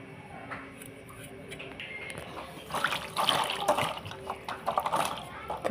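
Gathi kochu taro being rinsed in water by hand, with quiet sloshing at first that turns into louder, uneven splashing and swishing bursts partway through.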